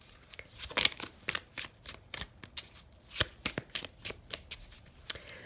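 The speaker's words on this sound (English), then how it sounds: "I'll pull one more card." A deck of tarot-style cards is shuffled by hand in a quiet room, a quick run of soft riffling flutters and taps repeating in bursts, close and fairly faint, with no talking.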